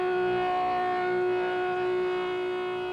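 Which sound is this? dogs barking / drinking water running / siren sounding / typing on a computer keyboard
siren sounding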